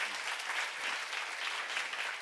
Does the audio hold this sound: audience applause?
yes